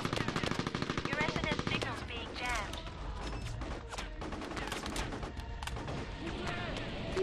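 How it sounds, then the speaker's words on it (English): Sustained rapid bursts of machine gun fire in the video game Mercenaries, loud and continuous with overlapping shots and a few booming impacts throughout. "Machine gun."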